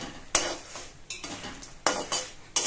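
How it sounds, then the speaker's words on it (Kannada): A spoon scraping and clinking in a pot while chili, salt and turmeric powders are mixed together, several irregular stirring strokes close by with no talking. "ಈಗೆಲ್ಲ ಚೆನ್ನಾಗಿ ಮಿಕ್ಸ್ ಕೊಡಬೇಕು"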